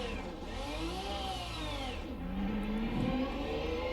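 A Formula 1990 V12 race car engine in Race Sim Studio's sim at Vallelunga revs up in first gear, its whining pitch climbing, dipping and rising again as the car pulls away, close and loud, no voices.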